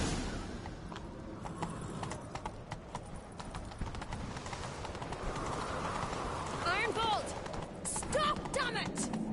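In The Witcher 3, a horse's hooves clop in rhythmic beats beneath character dialogue and faint ambient game sound, with the pace and intensity building toward the end.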